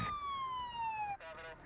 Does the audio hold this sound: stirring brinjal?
no